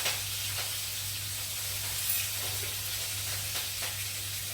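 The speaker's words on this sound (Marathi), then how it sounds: "नंतर हे मिरची आणि कढीपत्ता मी घेतलेला होता तो मी घालते, याने पण छान चव येते इथे" Green chillies and curry leaves sizzling in a hot tempering for moong dal khichdi, a steady, moderately loud hiss and crackle with faint spattering pops and no talking.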